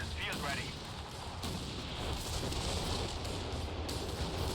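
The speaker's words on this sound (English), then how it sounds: "Nice zeroing barrage." A zeroing artillery barrage in the Company of Heroes 3 video game, a dense, continuous rumble of blasts and battlefield noise that stays loud and steady throughout.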